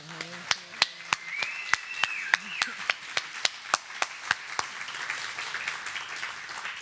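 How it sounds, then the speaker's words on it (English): An audience at a literacy center fundraiser event claps in a sparse round of applause, with sharp separate hand claps standing out, fairly faint, and a voice briefly heard at the start. "Let's give her a round of applause."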